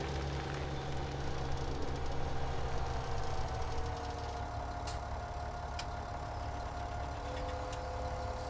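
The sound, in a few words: tractor engine in video game Farming Simulator 17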